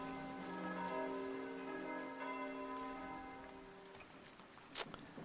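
A church bell rings in the village-building video game Foundation, its long resonant tones sustained and slowly fading over soft rain and game ambience, with a brief sharp click near the end.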